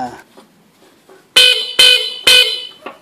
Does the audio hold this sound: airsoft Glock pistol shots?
no